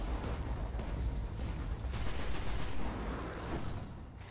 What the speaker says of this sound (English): it's good to have an auto rifle